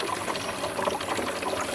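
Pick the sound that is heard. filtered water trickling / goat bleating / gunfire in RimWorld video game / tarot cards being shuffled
filtered water trickling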